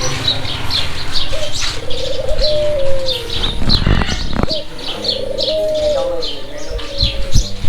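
Caged birds coo and chirp close by, with doves cooing low beneath busy high twittering and a brief flurry of flapping wings in the middle.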